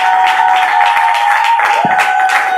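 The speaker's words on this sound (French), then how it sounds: "que je vous demande d'applaudir bien," Applause from an audience at a Congolese gospel music broadcast, welcoming an evangelist singer: steady, dense clapping throughout, loud and close, with a sustained musical tone running underneath.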